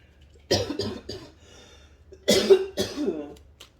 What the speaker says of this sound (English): I'm sorry to be coughing, y'all.